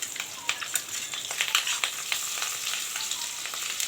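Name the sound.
rohu fish frying in a pan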